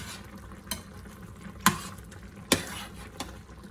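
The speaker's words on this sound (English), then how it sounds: "Give it a little stir." A pot of Cajun-style stewed chicken with sausage is stirred while it simmers. A soft sizzling bed runs underneath, with a few sharp utensil knocks against the pot spaced about a second apart. No one speaks.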